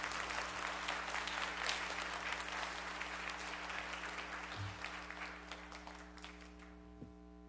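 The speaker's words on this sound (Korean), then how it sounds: "크게 박수 한번 하십시다." A church congregation at a Korean Presbyterian Sunday worship service in Vancouver applauds loudly and steadily, a dense wash of clapping that fades slightly toward the end beneath a low hum.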